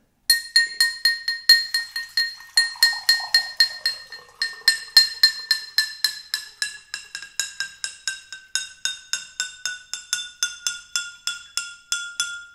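A rapid, steady run of bright clinks as water-filled glasses are struck, ringing tones shifting in pitch across many strikes.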